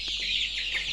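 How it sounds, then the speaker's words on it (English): Brooding chickens on a farm, twenty-nine days old, give a brief cluck over a steady high chirping din from the flock. "These flying animals, we call them birds, some call them chickens."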